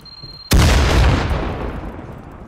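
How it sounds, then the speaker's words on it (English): Grenade explosion in the video game Firewall Zero Hour: a sudden loud boom that rolls off into a long rumbling decay, close and without talk. "Grenade."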